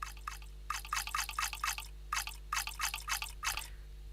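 Water sample for a water drum kit: a run of wet splashy drips and trickles in uneven clusters, close and fairly quiet over a steady low electrical hum.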